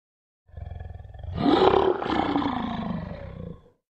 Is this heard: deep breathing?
no